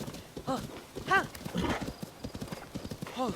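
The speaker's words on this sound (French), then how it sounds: "Tiens, le voilà ton cheval." In the Zelda: Tears of the Kingdom video game, a horse's hooves clip-clop quietly in an uneven rhythm beneath a person talking.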